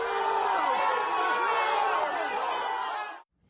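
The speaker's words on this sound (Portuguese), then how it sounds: "Em uma das imagens é possível ouvir as vaias" Crowd of protesters outside a business event, a dense sustained mass of voices, likely booing, filling the clip then cutting off abruptly.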